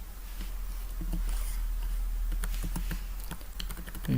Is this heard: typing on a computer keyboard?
yes